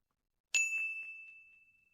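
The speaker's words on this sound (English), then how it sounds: "I have a bell." A single small hand bell struck once, its bright metallic ding ringing clearly with a sustained tone that slowly fades, heard alone without any talking.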